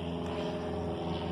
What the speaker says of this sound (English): Sorry about the plane overhead.